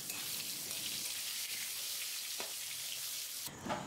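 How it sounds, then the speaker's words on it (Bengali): Potato slices frying in hot oil in a pan, a steady close hiss and crackle throughout, with a brief louder sputter near the end. "এর মধ্যে আমি একটা আলু 4 ফালি করে দিয়ে ভালো করে উল্টিয়ে পাল্টিয়ে ভেজে নেব"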